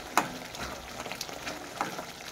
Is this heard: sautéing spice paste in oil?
yes